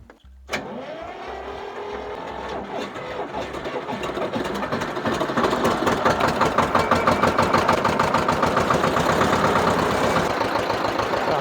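A T-25 tractor diesel engine after repair starts with a sharp catch, then idles close and loud with a rough, even knocking beat that grows heavier partway through.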